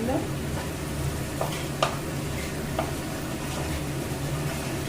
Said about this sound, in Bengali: টমেটোটা দিয়ে একসাথে এরা কষবে